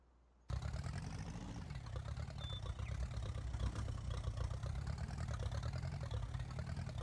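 A tractor engine idles steadily in Farming Simulator 19, a continuous low rumbling drone with a mechanical hum that starts abruptly and holds even and loud, with no talk.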